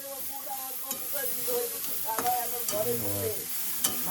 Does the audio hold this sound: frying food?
yes